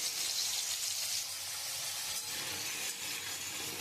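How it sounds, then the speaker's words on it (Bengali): Cut potatoes frying in a pan of oil with cumin seeds and a bay leaf, giving a steady, bright hiss of sizzling that is close and moderately quiet, with no talk. "আমি আলুটা একটু লাল লাল করে ভেজে নেব।"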